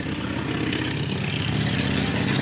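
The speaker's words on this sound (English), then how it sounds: "that's such a noisy bike" A Harley motorcycle with no mufflers idling loudly nearby, a steady rough rumbling engine drone held at an even level for the whole stretch.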